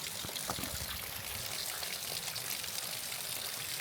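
Water trickles and pours steadily along a small stream beside a hiking trail, a close, continuous splashing babble that holds at an even level throughout.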